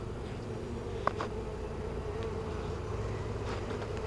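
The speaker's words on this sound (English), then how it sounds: "I just dropped a bunch of bees on my pant leg" Honey bees buzz in a steady, dense drone around an open hive during an inspection, with a few sharper close passes standing out from the continuous hum.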